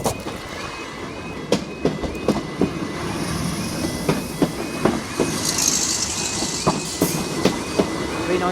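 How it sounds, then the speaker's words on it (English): London Northwestern Railway class 390 train on the St Albans Abbey to Watford Junction service passing Watford North level crossing in Hertfordshire, a steady rumble with rhythmic wheel clacks over rail joints and a continuous warning tone throughout. "this is for our 15:07 to Foxtrot 26 London North Western Railway Service and St Albans Abbey to Watford Junction"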